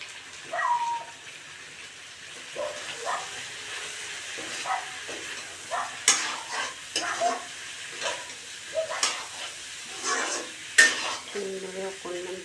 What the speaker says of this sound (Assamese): এনেদৰে 5 মিনিটমান ভাজিলোঁ।